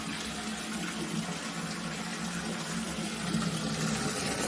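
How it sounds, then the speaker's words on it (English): Hot soapy water runs from a tap into a mop bucket in a utility room, a steady continuous gushing fill that holds close and even for several seconds, swelling slightly toward the end, with no voices. "let's fill the mop bucket with some hot soapy water"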